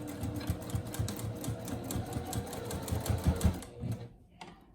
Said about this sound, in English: I'm gonna start on a pleat and then back stitch.